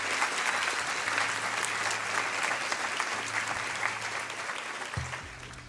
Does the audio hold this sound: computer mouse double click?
no